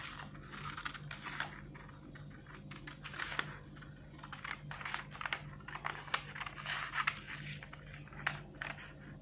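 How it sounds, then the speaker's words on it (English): Scissors cut along marked lines in fabric for a bishop sleeve, giving faint, rapid crisp snips and rustles in a quiet room with a low steady hum. "just cut on these lines"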